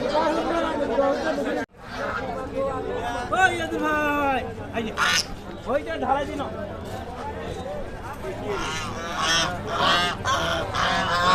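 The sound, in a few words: geese honking at a market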